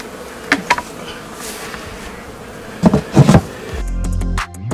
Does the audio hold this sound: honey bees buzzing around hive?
yes